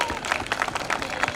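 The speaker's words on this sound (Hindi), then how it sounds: "तो एक बार जोरदार तालियां हो जाए आप सभी के लिए।" Audience applause fills a college hall during an NCC award ceremony, a steady wash of many hands clapping at moderate volume with no break across the short stretch.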